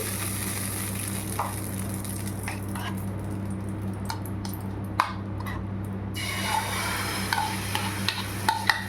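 Hot oil sizzles steadily in a frying pan while a bread omelette is being made. The hiss is constant and close, broken by a few light scrapes and clinks of utensils against the pan.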